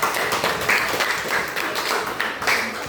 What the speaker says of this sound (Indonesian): berikan dulu tepuk tangan kelompok 2 lah